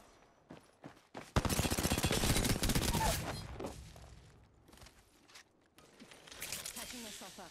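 Gunfire in the Apex Legends video game, a quick run of rapid shots in a dense burst followed by scattered single reports and shuffling movement, with a voice talking intermittently.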